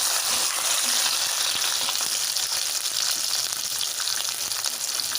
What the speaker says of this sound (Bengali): পটলগুলি ভাজতে ভাজতে